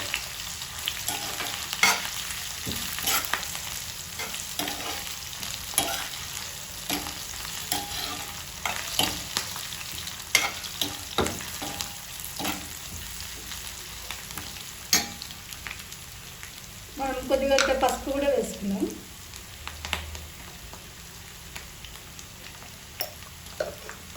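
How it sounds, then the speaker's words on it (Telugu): Ginger and onion paste frying in a pan for chicken fry, a continuous loud sizzle with repeated scraping strokes of a spatula and a brief burst of stirring near the end. "ఇందులోనే అల్లం ఉల్లిగడ్డ పేస్ట్ వేసుకుంటాము ఇది కూడా మనకు ఫ్రై అవుతుంది"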